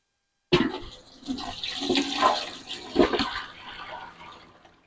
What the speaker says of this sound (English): I'm going to pour mine totally over into the dish pan.